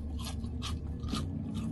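Someone bites into crunchy KFC teriyaki chicken, giving three or four short, close, crisp crunches in quick succession at a soft level.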